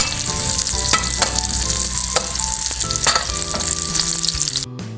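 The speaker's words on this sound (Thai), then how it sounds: "ตอนนี้พริกหอมแล้วใส่หมูลงไปเลยค่ะ" Pork stir-frying with chili in a hot pan, a steady loud sizzle with scattered stirring clatters throughout, no voices.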